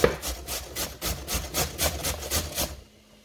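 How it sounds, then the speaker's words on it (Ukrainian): Rhythmic rasping strokes of firm pumpkin grated on a hand grater, about a dozen quick even scrapes, close up, then it stops. "Гарбуз я буду терти ось на такій терці"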